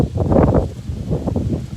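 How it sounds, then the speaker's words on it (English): Wind blows outdoors, buffeting the microphone in a continuous low, rough rush that swells and eases in gusts, with no voices. "It's pretty windy here."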